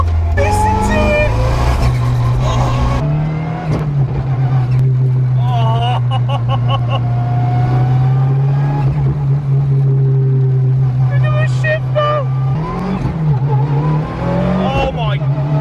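A Mitsubishi Evo 6 rally car with sequential gearbox and anti-lag runs loud and close, its engine droning steadily with revving surges, gear-change pops and crackles, while people talk excitedly inside the car.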